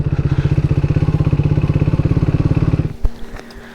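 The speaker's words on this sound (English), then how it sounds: "we're probably going to get back on the bike and visit the next site" A motorbike on a Scottish road runs at a steady pulsing throttle, loud and close for about three seconds, then cuts to a brief clatter as it slows.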